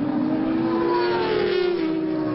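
A 1000cc racing motorcycle at an endurance race at Anglesey gains speed toward Peel Corner, its engine a steady, rising mid-pitched drone heard from a distance and alone.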